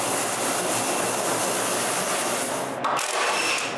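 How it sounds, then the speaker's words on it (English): Power sanding of a wooden coat rack, a continuous close rough abrasive hiss and rumble, steady throughout with a brief dip near the end, no speech. "Last thing to do is the final sanding."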